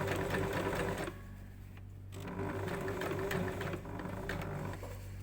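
Sewing machine stitching a corset seam, a close, rapid mechanical whirr that pauses briefly near the start and then resumes steadily, quiet overall with no talk.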